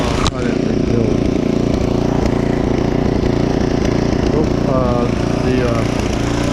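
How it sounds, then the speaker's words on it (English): A rebuilt rototiller's small gasoline engine runs steadily at close range, a continuous loud mechanical drone with a few faint clanks over it. "I got my rototill fired up"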